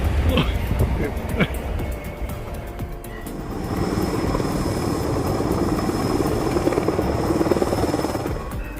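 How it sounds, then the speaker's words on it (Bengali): A power line rescue helicopter flies overhead with a loud, continuous rotor thrum and engine whine. A voice speaks over it at the start. "এটি পাওয়ার লাইন রেস্কিউ হেলিকপ্টার।"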